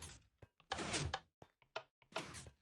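Minecraft redstone door clunking open in a video game, several short mechanical thunks and sliding knocks in quick succession, close and clear with no talk.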